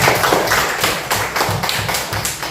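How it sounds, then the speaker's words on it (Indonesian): Schoolchildren in a classroom clap for a pupil who answered correctly, a close, busy patter of many small hands with soft thumps, steady and fairly loud for a couple of seconds. "Tepuk tangan dulu untuk Anggun ya."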